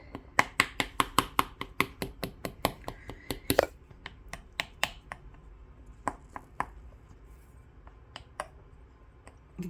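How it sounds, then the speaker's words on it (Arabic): A fork repeatedly pricks thin rolled pastry dough pressed into a tart mould, making quick sharp taps in a fast run that slows into sparser, scattered pricks; close and quiet, with no speech. "غادي ناخذ الفرشيطه وغادي نبدا نتقفاها على هذا الشكل"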